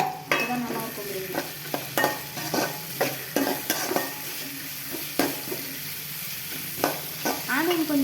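Onions with curry leaves frying in hot oil, a steady close sizzle broken by repeated scraping strokes of a spoon against the pan, with no talking.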